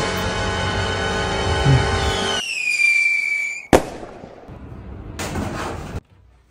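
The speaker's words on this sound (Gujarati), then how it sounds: "ફટાકડા એટલે ચેક કરતો તો હવાય નથી ગયા ને" Diwali firecrackers going off: a loud sustained crackling blast, then a whistling rocket-like tone, a sharp bang, and a later burst of crackle, all alone with no talk.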